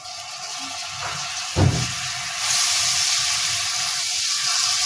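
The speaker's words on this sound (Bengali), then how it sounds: "আমি এখন চিংড়িগুলো দিয়ে দিচ্ছি" Shrimp drop into a pan of sizzling spice masala with a brief clattering thump, followed by a steady, louder frying hiss that continues without talk.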